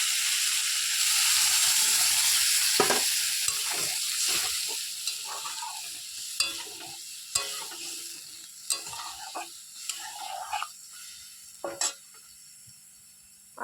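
Sizzling of potatoes frying in a pan as water is poured in, hissing steadily with intermittent clinks and scrapes of a spoon stirring, close and clear with no talk.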